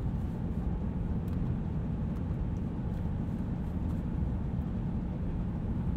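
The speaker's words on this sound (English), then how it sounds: "let you get an idea for what the truck sounds like at 75 miles per hour" Inside a 2020 Ram 2500 pickup at 75 mph on the highway, a steady, even roar of road and wind noise with a deep low rumble underneath, constant and unbroken throughout.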